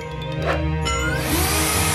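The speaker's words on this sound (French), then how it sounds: "Mais n'oublions pas la perceuse" A power drill whirs close by, driving screws into wooden bed boards, its motor tone steady and then rising into a harsher, louder spin near the end; no talk.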